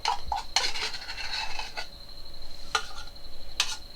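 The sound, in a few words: knife scraping condensed milk out of a tin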